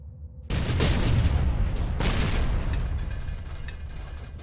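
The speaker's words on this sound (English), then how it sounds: "Hope there will be no more explosions." A sudden loud explosion in the video game Fallout 3 bursts out of silence, followed by a second blast and a long rumbling roar that slowly fades.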